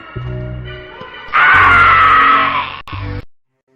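Loud, sustained screaming in a Hindi horror story about a witch's haunted mansion. A long, harsh, anguished scream sits at the center, with lower groaning voices just before and just after it before the sound cuts off.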